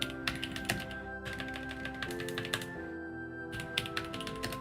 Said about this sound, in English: Typing as bad as I can right now.